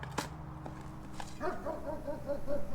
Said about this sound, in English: Okay, the doggy is barking. So that must mean the kennel worked.